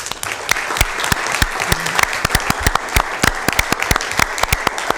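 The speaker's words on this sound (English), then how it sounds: "we'd like to give our award winners one more round of applause" An audience applauds award winners at a county Board of Supervisors meeting, a steady wash of clapping with sharp individual claps standing out throughout.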